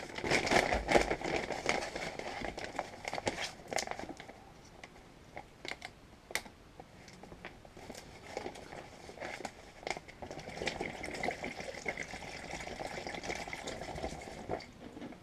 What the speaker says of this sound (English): we need to put 450 milliliters of clear water into this bag